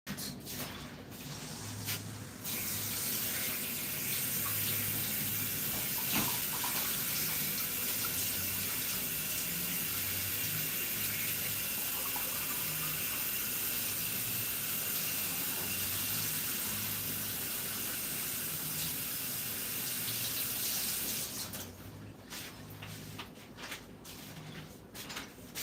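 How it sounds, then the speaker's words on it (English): Tap water runs steadily into a sink while something is washed out, a loud, continuous splashing rush that lasts about twenty seconds before stopping, with faint handling noises around it. "So we gotta wash this out."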